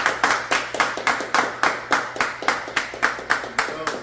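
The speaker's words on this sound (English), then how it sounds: "Clap it up." Steady, rhythmic clapping at roughly four sharp claps per second, loud and close, as an audience welcomes a guest introduced at an interview event.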